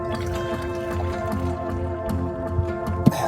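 Hot water at about 80 degrees Celsius is poured from a kettle into a mate gourd, a steady close trickle with faint dripping and a small clink near the end.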